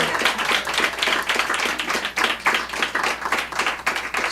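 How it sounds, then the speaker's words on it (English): Audience at a book event applauding, steady dense clapping that holds strong throughout with no talk. "So we've been clapping, but please, one more time for Evan Wright."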